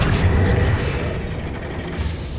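Accio summoning spell cast in Hogwarts Legacy, a dense mechanical whoosh and rumble with boomy low-end pulses holding steady for about two seconds, loud and close with no voices.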